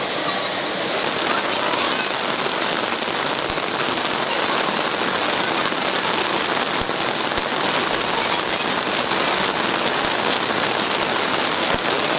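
Heavy rain pours steadily on a flooded street near a mosque, a dense, continuous hiss of drops and rushing runoff with a few faint voices in the background.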